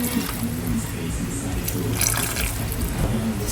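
Liquid pours steadily into a pot of simmering vegetables with squash and beef powder, a close, continuous splashing and gurgling with no talk.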